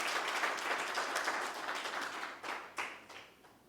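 A hall full of people at a student education forum gives a round of applause, dense steady clapping that swells and then thins out into scattered claps toward the end.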